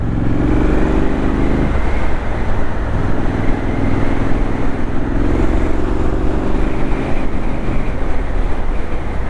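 Loud, sustained roar of a 2025 Triumph Scrambler 900 motorcycle engine with a deep, steady drone and pitch shifting as it pulls hard, continuous with no pauses.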